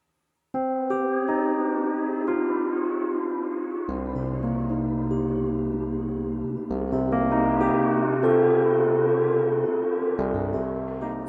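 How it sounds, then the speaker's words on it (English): A Strymon StarLab reverb pedal holds sustained, shimmering synth-like tones whose pitch wavers under LFO modulation, with chord changes and a swelling tail, steady and loud throughout. "set the LFO to pitch to control the pitch size parameter of the reverb"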